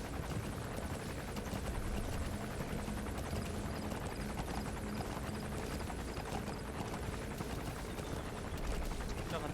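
A gunship helicopter's steady rotor drone in Metal Gear Solid 5 runs without letup, loud and continuous, with a dense rumbling wash throughout and no clear gaps.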